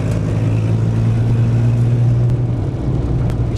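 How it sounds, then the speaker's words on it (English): An old van's engine drones steadily while driving along, a loud, close low rumble with constant road noise and no break throughout. "Sound like an old local van."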